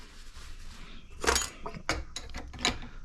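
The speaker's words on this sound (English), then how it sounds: "Now we're gonna throw on our fork cap, tighten it down till it stops." Metallic clicks and clinks up close as a wrench tightens a fork cap on a Beta X-Trainer motorcycle fork, several short ratcheting taps in an uneven rhythm.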